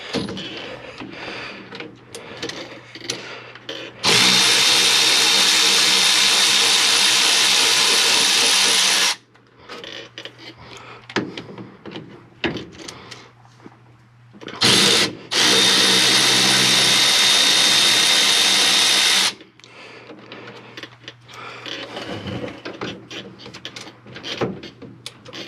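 A power tool loosening the front drive shaft bolts on a four-wheel-drive vehicle, with two long loud whirring runs of about five seconds each, separated by quieter shop noise.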